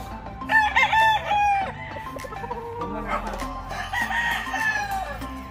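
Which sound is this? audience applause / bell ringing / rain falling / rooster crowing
rooster crowing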